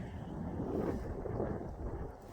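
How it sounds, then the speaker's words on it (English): Steady wind roars and buffets the microphone throughout at a coal train yard in Seward, Alaska, a continuous low rumble with gusty swells and no voices. "Oh, it's windy today."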